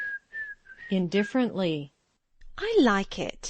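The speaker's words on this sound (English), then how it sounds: "She is whistling again." A person whistles a few short notes, then someone speaks briefly, and after a pause a voice rises again.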